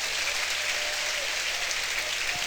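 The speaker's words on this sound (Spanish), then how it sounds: "Y levantamos el mejor aplauso a Jesús" A church congregation claps for Jesus during a service, sustained dense applause from a crowd filling the whole moment without pause.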